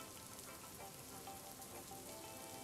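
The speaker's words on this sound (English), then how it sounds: "It is raining as well, so sorry if it's raining." Steady rain in the survival video game Taora Survival, a dense even patter of drops hitting surfaces that continues without a break at moderate volume, with no voices.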